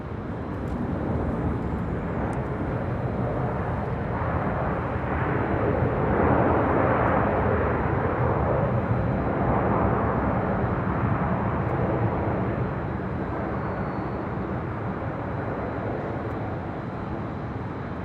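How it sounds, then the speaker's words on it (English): An American Airlines Airbus A321 jet arrives at LAX on the north side, a continuous engine rumble that swells in the middle and slowly eases off, with no voices over it. "Next arrival on the north side, American Airlines Flight 341, coming in from JFK. It's an A321."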